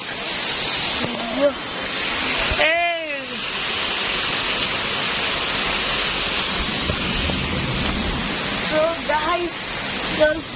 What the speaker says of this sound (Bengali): ভালো করে দেখতে পাচ্ছেন আপনারা কি বৃষ্টি হচ্ছে